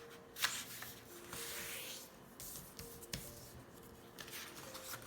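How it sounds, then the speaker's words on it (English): Sheet of paper folded in half for cutting a paper snowflake, giving soft crinkling and rubbing with a sharp crease snap near the start, then quieter shuffling paper handling, close and alone. "Fold your paper in half."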